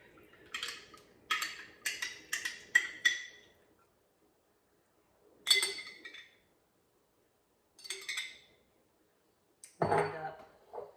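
A spoon scrapes and clinks inside a glass quart jar of homemade yogurt in short bursts separated by pauses, close and fairly quiet, with a heavier clunk at the end.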